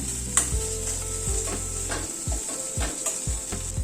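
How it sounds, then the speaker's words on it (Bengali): Coconut and sesame paste sautéing in a pan, a soft continuous sizzle broken by a few sharp scraping strokes and light clinks of the spatula against the pan, close and without talk. "নারকেল আর তিলের পেস্টটাকে মিনিট 2 ধরে কষিয়ে নিলাম"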